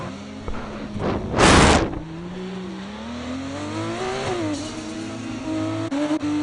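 A Formula 2 race car leaves the pit lane at Monaco: a loud, brief burst of roaring engine noise early on, then a steady engine note that climbs and wavers in pitch as it pulls away.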